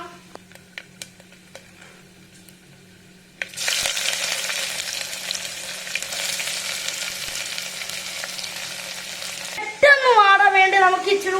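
Sliced onions drop into a hot pan of browned coconut and spices for beef curry. After a quiet stretch of faint ticks they break into a loud, steady sizzle that lasts several seconds, then a brief voice is heard at the end.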